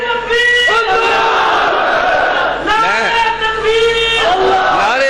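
A large crowd at a religious rally in Pakistan shouts slogans in unison, loud and close, voices rising together in repeated surges of chanting.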